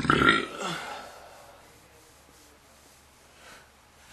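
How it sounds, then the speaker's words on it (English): A single loud, throaty burp at the very start, lasting about half a second, then fading into near silence with faint room noise. "Well, I really gotta burp."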